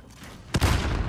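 A single heavy grenade blast goes off in a video game partway through, a sudden loud boom whose rumble carries on under steady game noise.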